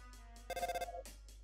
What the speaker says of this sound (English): You hear a ringing sound from Toriel's pocket.